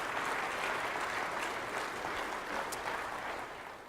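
Steady applause from an audience at a church celebration gathering, dense broadband clapping holding at a fairly even level throughout with no voices on top.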